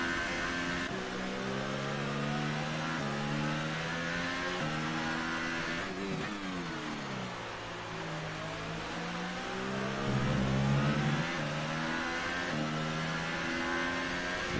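A race car engine in a sim racing game of the Spanish Grand Prix holds a loud, steady harmonic whine. Its pitch climbs through gear changes, dips once, then climbs again, with no talk over it.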